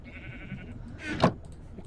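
A Minecraft sheep bleats once, short and fairly close, after a steady mechanical hum.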